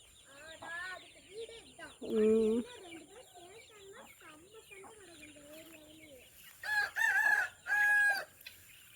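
Roosters crow loudly in bursts, several long calls near the middle and end, over a background of clucking hens and peeping chicks.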